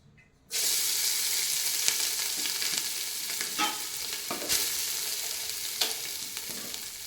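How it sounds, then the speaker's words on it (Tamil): Rice hits hot ghee in a pan for Malabar biryani, setting off a sudden loud sizzle that carries on steadily, with occasional scraping taps of stirring close by. "நெய் போட்டு கொஞ்சமாக ரைஸ் போட்டுக்கலாம்."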